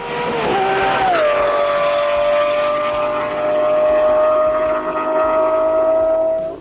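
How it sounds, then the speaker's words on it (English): A Lamborghini V12 engine revs, dropping briefly in pitch before settling into a loud, sustained high-pitched whine that holds for several seconds. "Beginning with a deep, menacing growl at idle, transforming into a ferocious roar"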